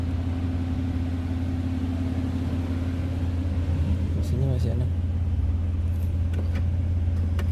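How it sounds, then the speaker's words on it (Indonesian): A 1991 Toyota Crown idles smoothly, a steady low engine rumble running the whole time beneath someone speaking nearby. "Tapi mesinnya halus sekali, mesinnya enak banget ini."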